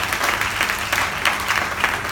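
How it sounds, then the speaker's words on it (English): Audience applause in a comedy club during an opening act, steady dense clapping from a crowd, fairly loud and sustained, with no voice over it. "give yourselves a round of applause"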